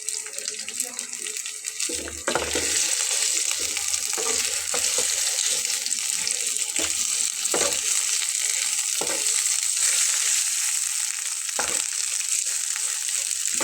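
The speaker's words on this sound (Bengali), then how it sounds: "ভর্তাটা দিয়ে দেবো। খুব ভালোভাবে এটাকে ভেজে নেব।" Mashed taro leaf paste frying in a pan, a dense continuous hiss and sizzle that jumps louder after a moment and holds steady, with occasional scraping knocks of stirring, close up and without speech.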